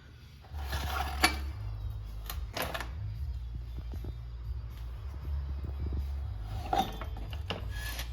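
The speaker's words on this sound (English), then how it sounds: "Начинаем замена снятия заднего колеса." Hand tools working on a motorcycle's rear wheel as it is removed ahead of a chain, sprocket and tire change: metallic clicks, ratcheting and clanks over a steady low hum, close by and without talk.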